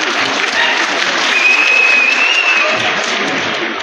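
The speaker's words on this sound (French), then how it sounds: "que je vous prie d'applaudir" Audience applause fills a ceremony hall in Bamako at the official launch of the AES Confederation, steady dense clapping from a large crowd lasting throughout without a break.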